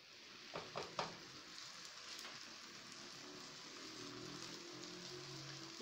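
Hot oil sizzles in a pan while msemen flatbread fries, a faint, steady crackling hiss with a few soft clinks at the start.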